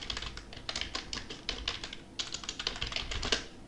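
Steady typing on a computer keyboard while writing in MS Word, a rapid run of close, light key clicks with a brief pause midway.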